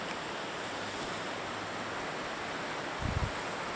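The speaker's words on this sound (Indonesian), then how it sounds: "Nih sungai." A river seen from about twenty feet above the bank gives a steady, broad rush of flowing water, mixed with wind noise on the microphone and a brief low thump near the end, with no talk.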